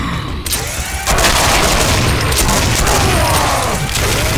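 Loud bursts of gunfire and booming blasts from the Brutal Doom Project Brutality 3.0 first-person shooter, firing almost without pause through a dense, rapid volley that dominates the mix.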